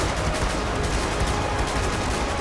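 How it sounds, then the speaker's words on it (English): Dense, continuous volleys of musket fire crackle at point-blank range as an Empire army line holds off a massive zombie horde in the video game Ultimate Epic Battle Simulator 2, loud and unbroken with no voices. "Just a point-blank musket fire now, practically"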